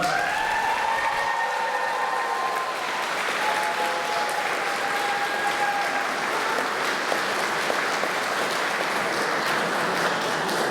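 A ceremony audience applauds a standing cohort at a lab coat ceremony, steady dense clapping filling the hall from start to finish without pause, loud and sustained.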